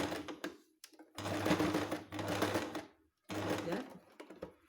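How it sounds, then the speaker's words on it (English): A sewing machine zigzag stitches a bathrobe belt cut from a blanket, loud close rattling bursts of a second or so separated by brief pauses, with someone talking between runs. "Just simply make a stitching with the use of the zigzag"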